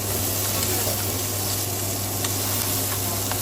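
Tomatoes fry in rapeseed oil in a pan, a steady close sizzle with a low constant hum beneath it, no voices.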